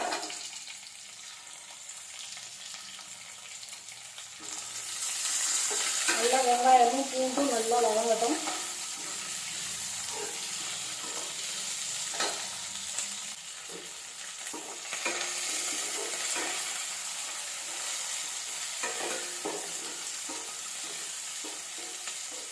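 Small shallots (100 g) stirred and sautéed in hot oil for a brinjal curry: a steady moderate sizzle with repeated scraping stirs of a spoon through the pan, close by, brief tonal murmur in the middle.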